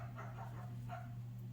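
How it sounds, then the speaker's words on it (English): A few faint, brief dog barks in the distance over a steady low hum, spaced irregularly. "I apologize for the dogs barking."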